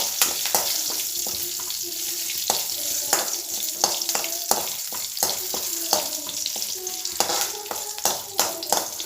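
Crackling sizzle of curry leaves dropped into hot oil in a pan, with sharp pops and spatters over a steady hiss, close by.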